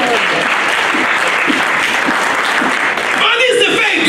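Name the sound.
congregation applauding in church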